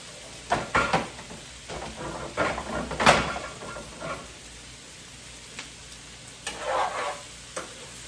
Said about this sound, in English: You just keep stirring it.